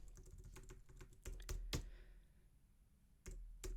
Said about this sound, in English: I'm going to start typing it in whilst you type it in